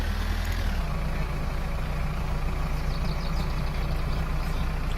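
A truck towing a trailer pulls away in the driving game My Summer Car, its low engine rumble steady and loud throughout with no voices over it.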